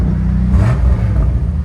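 A 2020 BMW M5 with a 4.4L twin-turbo V8 and resonator delete, a close, loud deep exhaust rumble that swells briefly in a short rev before settling back to idle.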